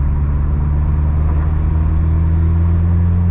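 A 2.0 turbo Ford Escort Series 1 pulling in fifth gear from about 50, a steady low engine drone and road rumble heard from inside the car, loud and continuous with no talk.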